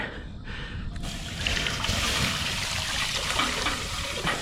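Water pours steadily into a pot for cooking pike, a close continuous splashing flow that starts after a quiet first second and runs to the end.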